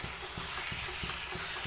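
Chicken biryani masala with ground cumin sizzles in a pan while being stirred, a constant loud frying hiss broken by regular soft scraping strokes about every third of a second.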